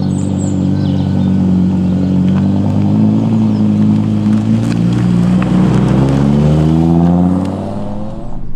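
An Audi R8 V10 Performance engine revs and drones with rising and falling harmonic pitch, loud and close, holding steady for several seconds before easing off near the end.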